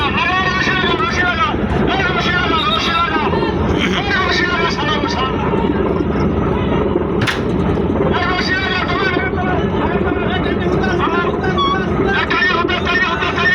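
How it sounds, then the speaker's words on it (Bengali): A river launch engine drones steadily for the whole stretch, with water and wind noise and people talking in the background throughout. "আমাদের লঞ্চ আটকে গেছে, তাই আরেকটা লঞ্চ আসছে এটাকে ছাড়াই নেওয়ার জন্য।"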